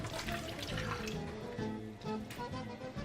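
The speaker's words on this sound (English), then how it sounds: "I just want to wash my hands for a minute." A tap runs steadily into a kitchen sink while hands are washed, giving a continuous splashing rush with small uneven spatters, moderately close and without talk.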